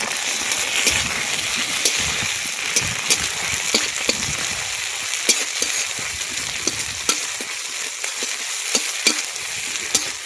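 Raw ginger paste fries in hot oil for a thin koi fish curry: a loud, close, crackling sizzle with frequent sharp pops and spatters over a constant hiss, with no talking.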